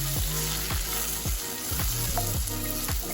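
Onions and vegetables sauté in a skillet for a Philly cheesesteak, a steady loud sizzle broken by repeated scraping stirs roughly every half second, close up with no talking.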